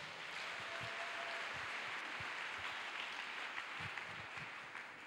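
A church congregation claps in acclamation of the Lord at a Congolese worship service, a steady dense wash of applause that carries through the whole stretch without talk.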